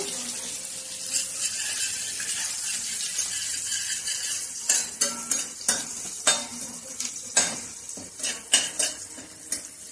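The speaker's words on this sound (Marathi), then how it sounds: "लसूण घालून घेत आहोत आपण यामध्ये. या प्रकारे छान परतून घेऊया." Garlic sautéing with curry leaves in a pan for ridge gourd bharit, a steady sizzle with scraping stirs and sharp clinks of a spatula against the pan in the second half, close and without talk.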